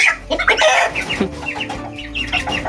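Cornish chickens on a farm cluck close by in a busy run of short, overlapping calls that fill the whole moment.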